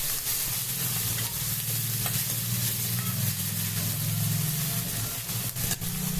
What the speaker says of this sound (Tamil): இஞ்சி பூண்டு நல்லா வதங்கட்டும்,